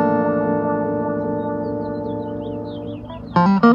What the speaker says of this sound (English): Add some sweep echo.